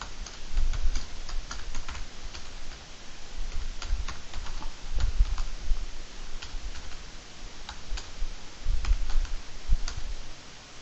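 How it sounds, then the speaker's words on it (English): Steady typing on a computer keyboard, with dense clicking keystrokes in continuous bursts and a low thumping undertone across the whole stretch, no voices. "Let us type."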